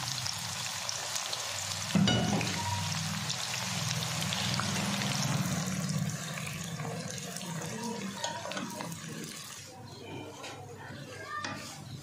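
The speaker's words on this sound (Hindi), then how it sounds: "घी हमारा गर्म हो चुका है, तो प्याज शामिल करेंगे।" Onions go into hot ghee for beef korma with a sudden rush of sizzle, then a dense, steady frying hiss carries on and slowly softens.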